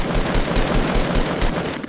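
Sniper rifle fire in the Fortnite battle royale video game, heard as a loud, close, rapid string of repeated gunshot bursts with no voices over it.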